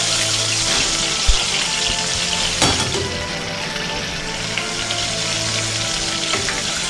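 Chicken breast fries in very hot oil, a loud and steady sizzle with bubbling crackle that goes on throughout, broken by a few sharp pops and knocks.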